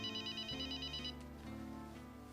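A telephone rings with a steady repeating electronic trill, fairly loud and close, fading partway through while a low hum and musical tones continue beneath it.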